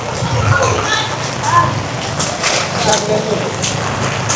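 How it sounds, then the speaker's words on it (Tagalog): Heavy rain pours down at an outdoor secondhand goods market in a steady, dense hiss that fills the whole clip, with faint voices underneath. "Bigla kasing bumuhos ang ulan."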